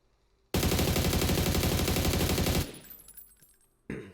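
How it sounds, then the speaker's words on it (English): A sustained burst of automatic gunfire from a weapon aimed at a wall in PUBG, a rapid unbroken rattle of shots lasting about two seconds, then a quiet tail and one brief loud shot near the end. "I'm just going to go ahead and shoot at this wall right here."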